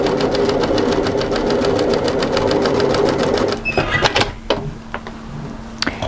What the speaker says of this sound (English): Now I'm going to sew a second line of stitching parallel to the first on the fold side